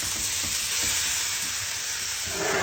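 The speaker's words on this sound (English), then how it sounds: "Cast iron back in to heat up so we can put the steaks on it." Steaks searing in a hot cast iron pan give a steady, close, loud broadband sizzle that holds evenly throughout, with no talking.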